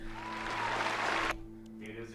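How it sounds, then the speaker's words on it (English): An audience cheers and applauds in a loud, broad wash that cuts off abruptly, leaving a faint murmur behind a steady background hum. "Cheering before they know what it is."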